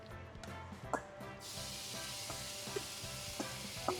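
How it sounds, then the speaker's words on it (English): Shrimp searing in olive oil in a skillet over medium-high heat, a quiet, even sizzle with a faint hiss and small periodic ticks, heard close and alone. "I'm gonna put about that much olive oil in it. And it's time to blacken your shrimp."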